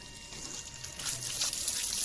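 Water sprayed onto a car wheel during a wash at a service centre, a steady hissing, trickling rush that stays fairly level and close throughout.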